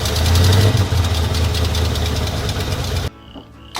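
A small block Chevy V8 in a 1979 Chevrolet K20 truck runs steadily with a rough, knocking rumble close by, then cuts off abruptly near the end.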